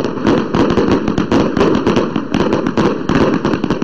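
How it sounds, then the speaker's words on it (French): Firecrackers and fireworks set off to mark the New Year in Mali, a dense, loud barrage of rapid overlapping bangs and crackles with no pause between blasts. "Entendez là l'utilisation des pétards et autres feux d'artifice pour marquer le passage d'une année."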